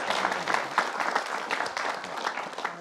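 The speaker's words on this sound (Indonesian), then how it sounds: "Boleh tepuk tangan bersama." A studio audience on an Indonesian television talk show applauds, steady clapping from a crowd that fills the moment without pause.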